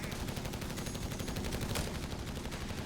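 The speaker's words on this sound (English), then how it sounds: "And there's the second machine gun now by Little Freya." Machine gun fire in Company of Heroes 3, a faint, continuous rattle of rapid distant shots running steadily throughout a real-time strategy battle.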